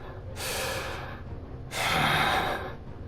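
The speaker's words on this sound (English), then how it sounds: "Heavy breathing." A Genshin Impact character breathes heavily, two long, loud, rasping breaths, the second one stronger, heard alone with no talk.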